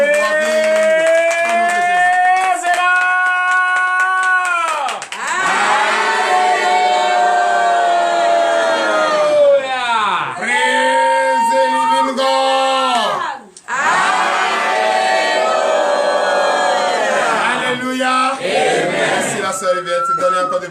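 A church congregation at morning prayer raises loud, sustained acclamation, many voices shouting and whooping together with hardly a break, dipping only briefly before surging back.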